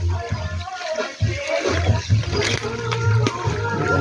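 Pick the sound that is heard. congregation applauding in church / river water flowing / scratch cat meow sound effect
river water flowing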